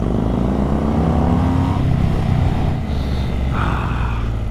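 A BMW GS motorcycle fitted with a Jekill and Hyde Nomad exhaust revs hard and close, engine note rising and falling with throttle blips and a steady loud rumble throughout.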